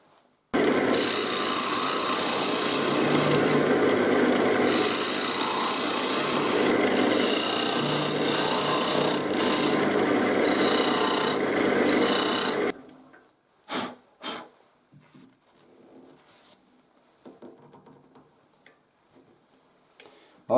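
A wood lathe hollows out the end of a turned piece held in the chuck while making sphere art, giving a loud, steady scraping and rasping cut for about twelve seconds before stopping, followed by a few brief knocks and taps.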